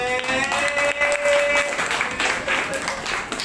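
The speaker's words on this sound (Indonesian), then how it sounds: "Ya, tepuk tangan dulu." A classroom of students claps briefly and unevenly, loud and close, with bits of chatter mixed in and a whistle-like tone at the start.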